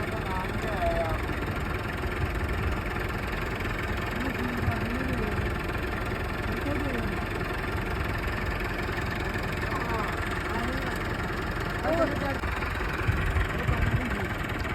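A tractor stuck in deep ground, its engine running steadily at a low idle with a rough knocking throb throughout, while people talk near the machine.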